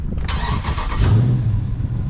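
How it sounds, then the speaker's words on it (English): A Dodge SRT Scat Pack engine cranks and catches, settling into a deep, steady idle rumble close by, with the car raised so the rear tires hang off the ground. "You want to start the car."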